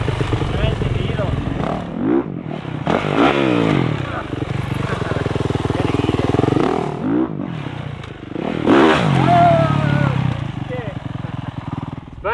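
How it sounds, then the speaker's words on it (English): A Can-Am off-road vehicle revs and accelerates on a wet sand track, its engine rising and falling in repeated surges, at times close and loud, with people talking over it. "we'll go see if we can rip that Can-Am over there in that turn"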